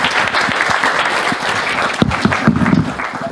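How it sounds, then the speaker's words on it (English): Audience applause for Captain Dhruv at a maritime technology conference, a dense, steady wash of many hands clapping that carries on unbroken, loud and close, with a few sharper claps standing out. "Let's have a wonderful round of applause for Dhruv."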